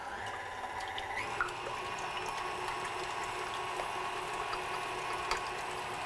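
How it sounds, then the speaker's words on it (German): Electric mixer running steadily on its highest setting, whipping eggs with salt and sugar into a foam; a continuous moderate whir with faint rattling and no talk. "Und nun lassen wir das 8 Minuten schön schaumig rühren."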